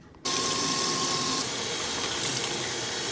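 Tap water running steadily over a synthetic blonde 613 wig during rinsing after toning, a loud continuous splashing rush that begins abruptly and keeps going, with no voices.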